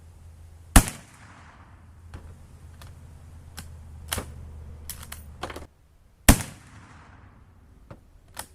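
Black powder .308 rifle fired at a target: two loud, sharp, close shots about five and a half seconds apart, each with a short ringing tail, and softer clicks and knocks in between.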